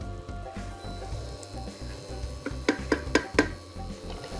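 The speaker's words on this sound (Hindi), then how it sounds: "मसाले को हल्का सा भूना।" Spice masala of chilli and salt lightly roasting in a pan, giving a soft steady sizzle with a few sharp stirring clicks near the end.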